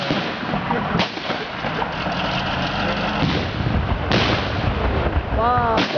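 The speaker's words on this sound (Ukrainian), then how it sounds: "Це обстріл автоматичною гарматою по позиції Української повстанської армії" Bursts of heavy automatic cannon fire boom and crackle during a battle reenactment in Lutsk, across a noisy, rumbling background, loud and sustained, with a sharp burst near the end.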